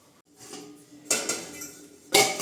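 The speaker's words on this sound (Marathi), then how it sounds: "हे बघा माझी मम्मी आता भांडी ह्याच्यात ठेवते" Metal pots and dishes clank and scrape together in a few sharp bursts, close by, as if stacked or packed into a container.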